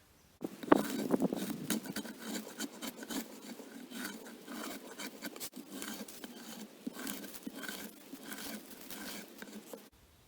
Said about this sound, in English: You already know what peeling logs looks like.